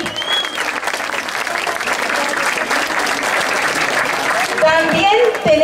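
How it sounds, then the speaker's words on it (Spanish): An audience at a rural village pageant in Obando applauds loudly, a dense sustained clapping that builds and carries through, with a voice faintly heard near the end. "Un fuerte aplauso para todos los aquí."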